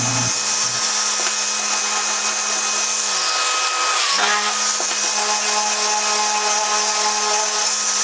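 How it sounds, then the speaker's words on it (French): A power sander with 400-grit sandpaper works steadily in a workshop, its motor whirring continuously and close up, with a brief dip in pitch midway before it settles back to a constant drone. "Ponçage, gros, moyen, fin, très fin, grain 400."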